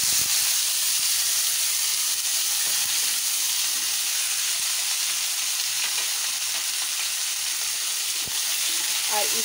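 Tomatoes hit hot oil with cumin seeds in a pan, giving a loud, steady, close sizzle and hiss that holds without a break.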